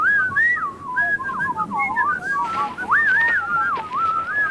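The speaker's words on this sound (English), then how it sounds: "Is he whistling an Elliot Carter tune?" A man whistles a wandering, melodic tune, clear and close, with sliding pitches and short pauses between phrases over a low background hum.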